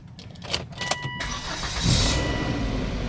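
A cheap used Volvo with a five-cylinder turbocharged engine gives a few clicks, then cranks and catches, settling into a smooth, steady idle close by.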